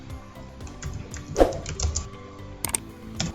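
Keys clatter on a computer keyboard as a search query is typed, a quick irregular run of close, crisp clicks with a couple of louder taps, no voices.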